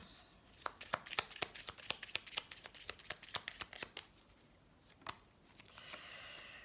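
Oracle cards shuffled and drawn by hand during a tarot-style reading, a rapid series of crisp riffling slaps and flicks up close, then a single card snap and a soft slide near the end.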